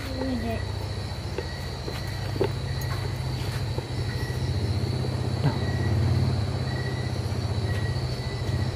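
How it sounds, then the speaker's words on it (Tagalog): A motorcycle stopped outside a house gives off a steady, fairly close engine rumble that swells slightly as it revs, with insects chirping in the background throughout. "mayroong motor dito na uminto dito sa mismo sa bahay ni Pare Bugoy at nagrarang-rang pa"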